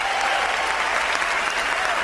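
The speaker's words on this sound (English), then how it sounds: "The applause increases loudly at the mention of Jasper's name." Dense, steady applause from a large crowd, loud and continuous throughout with a few voices mixed into the clapping.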